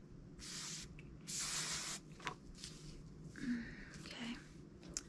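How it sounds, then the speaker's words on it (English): Sea salt spray pumped onto hair during a close-up hair styling session: several soft, close hissing spritzes in short bursts, with quiet rustling between them. "Alright, so I'm going to spray some more sea salt."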